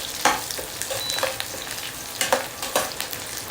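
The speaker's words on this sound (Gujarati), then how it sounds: "જો આ રીતે આપણે એને તળી લેવાના છે." Okra fries in a hot pan, with a steady soft sizzle and several sharp scraping clicks as it is stirred.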